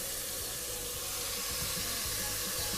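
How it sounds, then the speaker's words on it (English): Garlic sautéing in olive oil in a pan, a steady hissing sizzle with a broad airy wash, continuous and close with a few soft low knocks, no talking. "Now we're gonna take our garlic and saute it."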